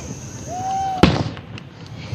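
Close fireworks at an outdoor display: a rising whistle glides upward before a sharp, loud bang, followed by crackling bursts that fade, with scattered smaller pops afterward.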